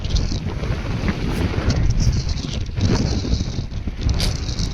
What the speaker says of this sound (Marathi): जाम हवा येते